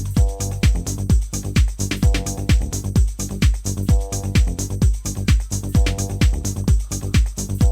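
A loud synth bass line, arpeggiated at 16th notes with a 50% gate, runs as a fast, even stream of short plucked notes with sweeping filtered attacks, continuous and alone.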